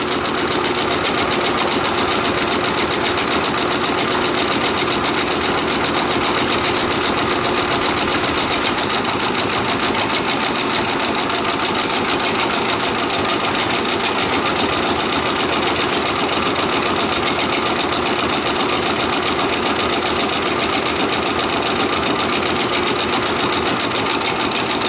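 Brother Persona PRS100 embroidery machine stitching an appliqué monogram for a picture frame hums and rattles continuously at a rapid, even pace, loud and close throughout with no talk.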